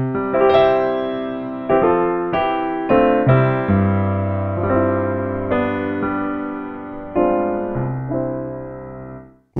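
Large concert grand piano soundfont played on a digital piano, a bright, resonant sequence of struck chords and notes, each ringing and decaying before the next, loud and close, with no voices.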